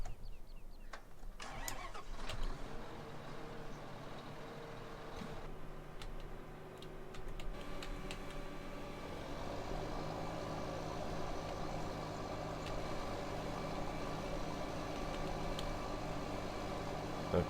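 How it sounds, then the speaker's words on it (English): Mower engines in a farming game crank and catch after a few ticks and clicks, then settle into a steady mid-pitched drone that runs continuously to the end, with faint talk early on. "let's go fire up the mowers"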